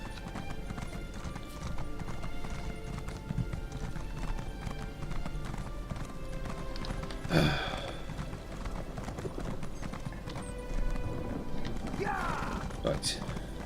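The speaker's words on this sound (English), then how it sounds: "got a nice long horse ride ahead of me" Steady, rhythmic hoof clip-clop of a horse at a trot in the video game Elder Scrolls Online, continuous against a faint background, with a brief snort or whinny partway through.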